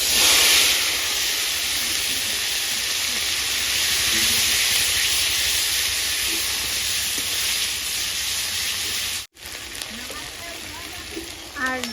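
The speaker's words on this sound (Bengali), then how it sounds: "তেলটাও গরম হয়ে গেছে, এখানে আমি যে মশলাটা বেটে রেখেছিলাম, আদা, জিরে, রসুন, পেঁয়াজ, শুকনো লঙ্কা, তো সেগুলো আমি এবার দিয়ে দেবো।" A paste of ginger, cumin, garlic, onion and dried chilli is hitting hot oil, giving a loud, steady hiss and sizzle that cuts out abruptly, then returns as softer frying with light clatter.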